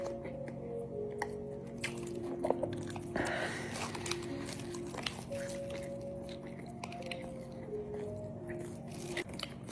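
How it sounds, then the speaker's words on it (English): Someone chews a beef and chicken shawarma with regular toppings. Soft, wet chewing and squishing sounds run steadily, close up, over a busy background hum. "It's a little hard to chew"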